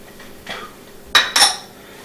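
Red peppers go into a mortar in a home kitchen while cooking Evil Jungle Prince with Chicken, giving a soft knock followed by two bright clinks close by.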